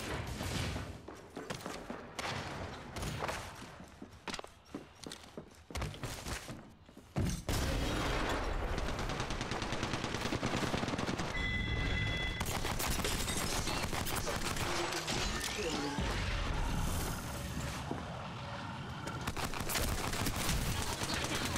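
Gunfire from Apex Legends, heard in solos mode: scattered shots at first, then dense, loud bursts of automatic fire with metallic mechanical clatter that keep going almost without a break for over ten seconds.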